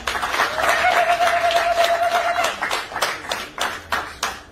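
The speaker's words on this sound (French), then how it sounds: "applaudissez pour le papa" Wedding guests clapping for the bride's father, a crisp patter of hands that thins into a few sharp separate claps toward the end, with a brief sustained tone early on.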